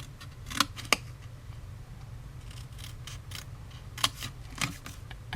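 Scissors snipping along score lines on specialty paper while making a small treat pouch: several sharp, close metallic cuts in two pairs, separated by a quiet pause, with no talking.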